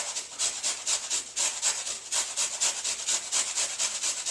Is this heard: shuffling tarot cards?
no